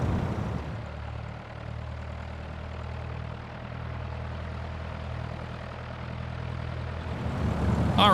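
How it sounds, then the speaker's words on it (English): A Cessna 172 propeller engine taxis in the X-Plane 10 flight simulator, giving a steady, close, low droning hum that swells louder near the end, with no voices. "And we're taxiing down to runway 36"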